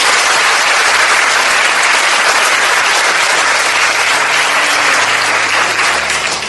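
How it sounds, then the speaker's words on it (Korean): A Korean church audience gathered for a theology briefing session breaks into loud, dense applause that holds steady without a break, with no talking over it. "감사의 박수를 먼저"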